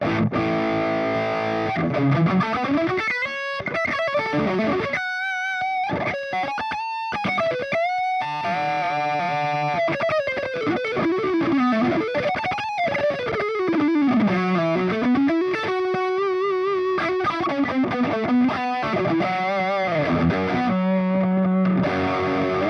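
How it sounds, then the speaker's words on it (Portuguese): A distorted electric guitar through an Audio Singularity Tangie, gain lowered and pushed with overdrive, plays a sustained lead line with bends and slides, thick and saturated, with no other instruments behind it. "Vou trabalhar com som lead nele, diminuindo um pouquinho o ganho e empurrando ele com overdrive."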